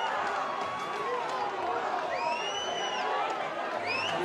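A volleyball crowd at an open tournament roars and cheers continuously after a point, the dense noise held at a steady loud level, with whistles and shouts rising above it.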